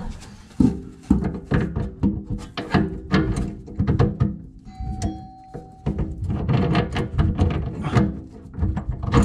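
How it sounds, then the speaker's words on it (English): Wrench turning on a kitchen faucet fitting during installation, with close scraping, rubbing and clanking of metal and wood in irregular bursts. "Use our wrench again."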